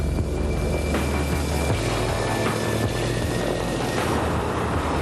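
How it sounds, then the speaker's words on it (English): Mitsubishi A6M Zero fighter planes dive in a World War II air battle against Grumman F4F Wildcats, a loud, steady propeller-engine roar with throbbing undertones that swells and rolls on continuously, no voices over it. "And here comes the Zeros, diving down on Thatch's division one by one from high to the rear of the U.S. fighters"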